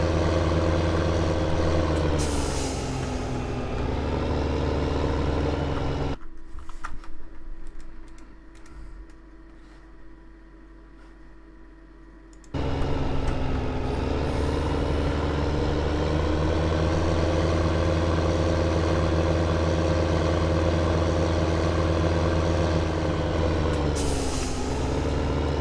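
A tractor in Farming Simulator 15 runs with a steady, droning engine hum that continues without a break, drops out into a quieter stretch partway through, then returns at full strength.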